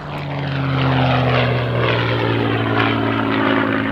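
A Supermarine Spitfire fighter plane passes overhead, its piston engine a loud, steady drone with a deep sustained hum and rough broadband roar holding throughout, no voices present.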